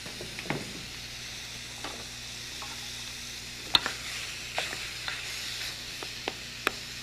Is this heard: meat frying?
yes